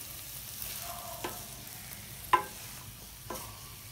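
Vegetable fried rice being gently stirred in a pan produces a low, faint sizzle with a few spaced spatula scrapes, one slightly louder.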